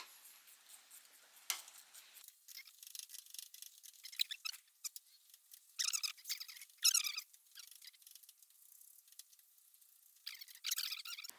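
A ratchet works on the brakes of a BMW E36 or E46, making faint, intermittent bursts of rapid ticking clicks separated by quiet pauses.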